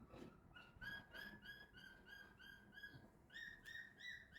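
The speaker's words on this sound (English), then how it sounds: "My bird tends to get really hyper when the energies are high" A pet bird chirps in a rapid series of bright, repeated tweets at a steady pace, close by but faint, with no talking.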